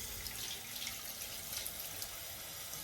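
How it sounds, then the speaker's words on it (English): Tap water runs steadily into a sink while dishes are washed up after making a smoothie breakfast, a soft continuous hiss and splash with faint dripping, heard up close and on its own. "As always, wash up straight away."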